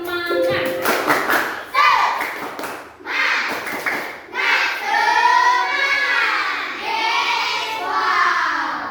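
A primary school class performs a rhythmic clapping chant in a classroom, bursts of sharp patterned claps alternating with children's voices chanting together at close range.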